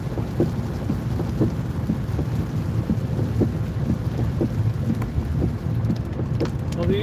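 Heavy storm rain pours steadily over the Lickey Hills, with low thunder rumbling beneath, loud and close, and no voices over it.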